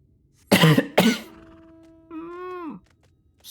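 Two sharp, harsh coughs close up in the video game Final Fantasy XIV: Shadowbringers, followed by a drawn-out groaning vocal sound that trails off.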